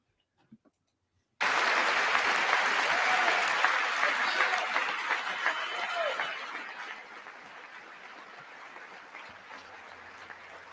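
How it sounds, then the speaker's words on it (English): Loud, rowdy applause from members of Congress during a Trump address to Congress, bursting in abruptly after a brief silence, then sustained and slowly thinning over about nine seconds. "he got more applause, more rowdy applause for some people say I'm doing great"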